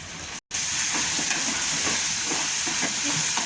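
Moth beans (matki) sautéing in a little oil, a continuous bright sizzle with faint stirring scrapes, steady and close after a brief dropout near the start.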